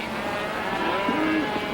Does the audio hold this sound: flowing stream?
no